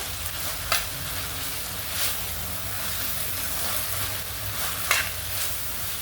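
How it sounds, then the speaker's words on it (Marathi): Noodles stir-fried on a high flame for Schezwan rice, a continuous loud sizzle with a few sharp scraping clanks of the utensil against the pan, no voices. "नूडल्स चांगला परतून घ्यायचा नूडल्स परतून घेतलेला आहे"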